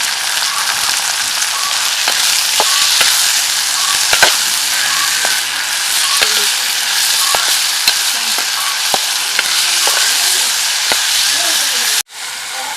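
Star fruit pickle with salt is stirred in a clay pot over a steady loud hiss of frying, with regular spoon taps knocking against the pot and a brief cut near the end.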